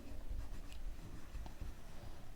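A pen scratches steadily across paper in a quiet classroom setting, with faint, close strokes and no speech.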